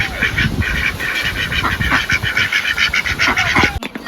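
A recovering injured duck quacks loudly and repeatedly at close range, harsh nasal calls coming in quick irregular bursts with no talk over them.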